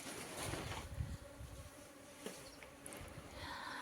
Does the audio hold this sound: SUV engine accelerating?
no